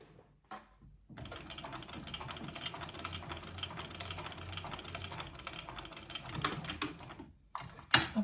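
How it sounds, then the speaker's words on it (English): A sewing machine stitches a basting seam across the top of fabric, running steadily for several seconds close up with rapid mechanical chatter, then stopping and giving a few short handling clicks. "I'm going to take it across to the sewing machine and I'm going to baste across the top with a scant 1/4 inch seam allowance"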